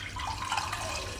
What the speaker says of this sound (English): The water will come out from this tube.